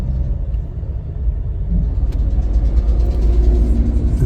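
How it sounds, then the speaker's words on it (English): A 2022 Ford F-250 XLT crew cab 4WD pickup truck on a test drive, heard from inside as a steady, low, quiet engine and road rumble that swells slightly as it gets moving. "we'll continue our test drive"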